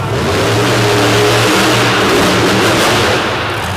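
A 2014 Ford Super Duty truck engine revs loudly and steadily at the line of a mountain drag race, a thick low rumble holding constant for a few seconds with no talk.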